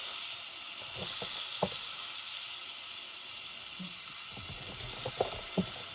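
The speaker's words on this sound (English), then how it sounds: "let's continue to cook our spice before we add in the base" Spices for a restaurant-style curry base gravy cooking in a pan, a constant low hiss of frying with a handful of brief scrapes and taps from stirring, no talking.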